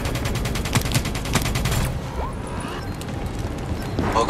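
Minigun fire in the Black Ops III video game: a dense, continuous rattling burst of rapid shots for about two seconds, then it cuts off, leaving only quieter ambient game noise.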